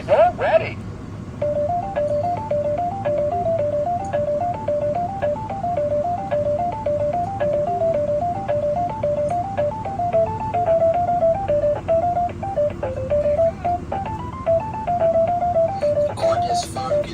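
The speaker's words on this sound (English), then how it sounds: "He's got 3 music loops and he just kind of plumps them together in a random order" VTech Little Smart Mr. Squawky Talky toy phone plays a bright, beepy electronic melody looping continuously at close range, a short repeating tune with a steady pulse, with speech and a few clicks over it.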